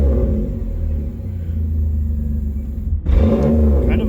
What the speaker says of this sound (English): I know it's a V6, it's not a racing car or a Hemi, but that exhaust makes it sound really nice.